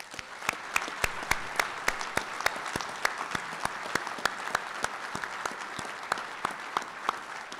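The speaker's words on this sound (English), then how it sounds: "will all of you please join me in a final round of applause?" Audience applause at a logistics awards dinner comes as crisp, distinct claps in a fairly even rhythm, moderately loud and close, with a soft crowd wash underneath and no talking.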